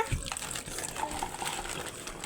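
Water pouring or gushing nearby in a steady, moderately loud wash that runs through the whole moment.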